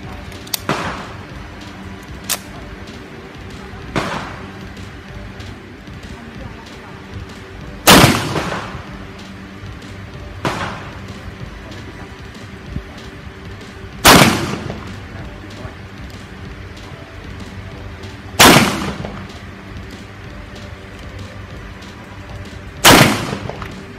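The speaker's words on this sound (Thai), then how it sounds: "ลองดูนะครับ5นัดระยะ10เมตร" Loud, sharp gunshots from a CZ TS 2 9 mm racing pistol fired at a 10-metre range ring out one at a time, several seconds apart, with fainter clicks and knocks in between.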